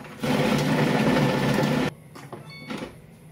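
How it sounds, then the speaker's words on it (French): Thermomix TM7 blending taboulé ingredients, a steady loud whirring burst of a little under two seconds that stops abruptly, followed by faint clicks and small kitchen noises. "Et on va mixer encore tout ça 5 secondes."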